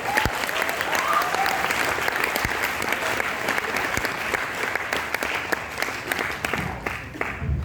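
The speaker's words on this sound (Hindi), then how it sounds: "तालियां बहुत अच्छी लगती है" A crowd applauds steadily, with dense clapping that holds loud and even for several seconds before thinning slightly at the end.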